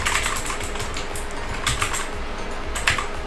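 Fast typing on a computer keyboard fitted with new RGB keycaps: a dense, steady stream of close, crisp key clicks with a few louder strokes, no voices.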